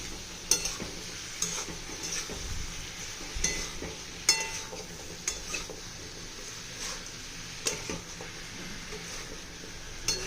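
Raw mango curry sweetened with jaggery is stirred in a pan over a full flame, a soft steady sizzle running beneath scattered scrapes and clinks of a spoon against the metal.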